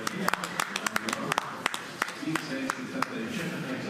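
Applause at the finish of a two-man bobsleigh heat at the European Championships in Sigulda, a scattered run of hand claps under a commentator's steady talk.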